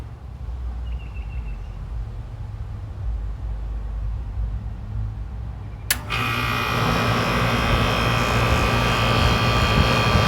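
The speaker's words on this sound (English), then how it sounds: "And I can hear the compressor running." An air conditioner's low mechanical hum runs steadily, then a sharp click brings in a louder, whirring fan and compressor drone that continues evenly after a new capacitor is fitted.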